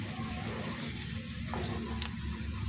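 Hair oil with fenugreek and nigella seeds gently cooking in a pan, a steady soft sizzle running throughout without pause.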